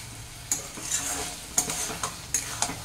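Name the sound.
stirring Malabar spinach curry with mustard oil in pan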